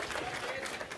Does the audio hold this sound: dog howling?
no